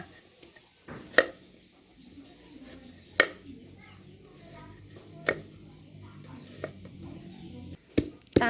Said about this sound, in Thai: เราก็จะหั่นเป็นชิ้นเล็กนะคะเพื่อให้ตามง่ายค่ะ